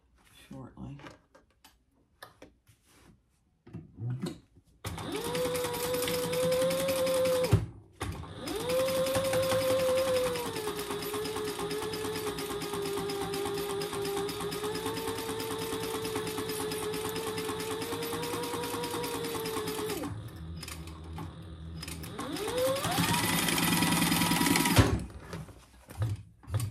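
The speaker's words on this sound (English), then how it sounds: "and then sew that at your seam allowance" Sewing machine stitching a seam on a handbag, running in long steady whirring bursts of several seconds with short pauses between them, close and fairly loud, with brief speech in the gaps.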